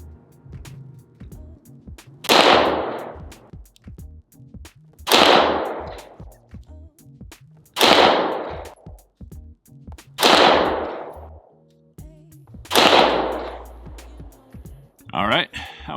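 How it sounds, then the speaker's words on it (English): Five loud gunshots from an Agency Arms-built Glock 17 pistol firing Browning BPX X-Point 147 grain jacketed hollow point rounds, each a sharp crack with a ringing decay, spaced evenly about two and a half seconds apart. "First up will be 5 rounds of the Browning BPX X-Point round"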